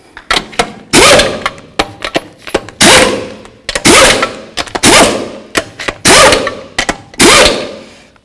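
An impact wrench runs down the lug nuts on a 2003-2009 Toyota 4Runner front wheel, firing in about seven loud, rapid hammering bursts, each roughly half a second to a second long, separated by short gaps and small clicks.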